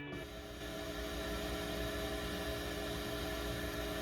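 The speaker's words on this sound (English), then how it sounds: "I have made my own custom noise sound." A continuous synthetic noise made from a sine wave and white noise, steady hiss blended with sustained tones, holding at an even level throughout without voices.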